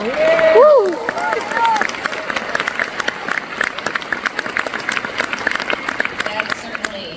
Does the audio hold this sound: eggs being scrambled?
no